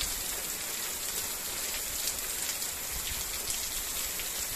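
Heavy rain pouring down on New Year's Eve in the Ouro Branco district of Ceará, a dense, steady hiss of drops drumming on surfaces throughout, loud and unbroken with no voices.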